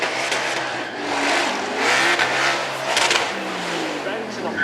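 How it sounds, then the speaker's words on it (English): A supercar doing a burnout on track at Beaulieu Supercar Weekend, its engine held high and bouncing off the rev limiter in a loud, pulsing roar with tyre noise, under a commentator's voice. "Bouncing off the rev limiter, the rear wheel's spinning away"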